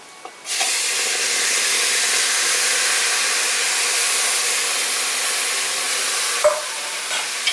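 Tomato pieces for a bottle gourd tomato curry hit hot oil in a pan, bursting into a loud, steady sizzle that holds evenly for several seconds before a brief clink and a softer tail.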